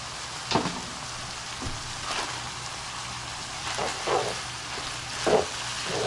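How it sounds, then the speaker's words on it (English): A medium onion fries in a pan with a steady sizzle, broken by occasional louder bursts as it is stirred. "So we're just going to cook these down till it gets translucent"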